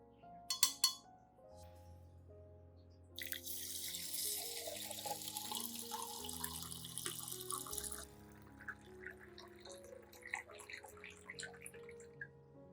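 Water from a tap runs into a container holding rice, a steady close splashing stream with light clinks and drips, rising in volume midway and then tapering off.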